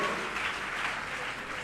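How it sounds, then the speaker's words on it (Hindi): A crowd at a Jain religious gathering claps briefly in a dense, even burst of applause to honour an anonymous donation. "गुप्त दान में जोरदार तालियों के साथ अनुमोदना करें।"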